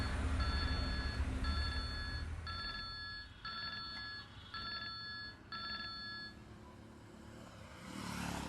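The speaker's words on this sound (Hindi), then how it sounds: "जी हुसैन साहब, मैं आपसे मिलना चाहता हूँ, इसीलिए आपको फ़ोन किया।" A telephone ringing in a Hindi movie, six evenly spaced electronic ring bursts, fairly faint over a low rumbling background, followed by a few seconds of ambient noise.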